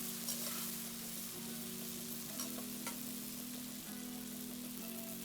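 Pork liver stir-fried with red and green chili peppers sizzles quietly and steadily in a hot pan, with a low hum running underneath and no voices.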